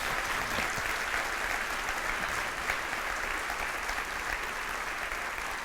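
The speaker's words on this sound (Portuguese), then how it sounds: "Você pode aplaudir mais forte ao Senhor?" Sustained applause from a large church congregation, steady and dense clapping throughout with no talking.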